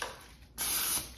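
A single spritz of cooking oil spray, a short close hiss lasting about half a second after a quiet start.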